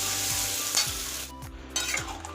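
Potatoes frying in a pan for a potato and pointed gourd curry: a steady, close hiss of sizzling oil broken by a few stirring scrapes.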